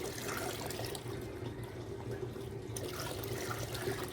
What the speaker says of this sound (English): we will take the jug and then we will mix like this